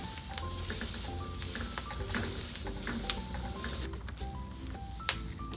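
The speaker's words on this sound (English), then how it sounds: "Heat up some oil in the tawa and place a taco face down." Tacos frying face down in hot oil on a tawa give a steady close sizzle throughout, with a few brief clicks and taps on top and no talking.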